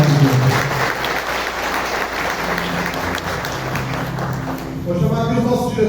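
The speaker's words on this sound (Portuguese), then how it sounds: "Uma salva de palmas para a Diana." Loud, sustained applause fills the room at a corporate event honoring a presenter, close and continuous, with a voice starting to speak as the clapping tails off.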